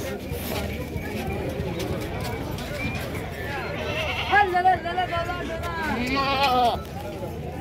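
Goats bleating at a busy livestock market in Ajmer, with hooves clip-clopping amid a dense crowd murmur; a few sharp bleats stand out near the end under steady talk.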